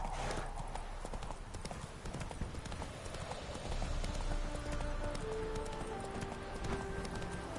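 Roach the horse clip-clops steadily at a slow, even pace in The Witcher 3, the hoofbeats close and rhythmic over a constant background of ambient game sound.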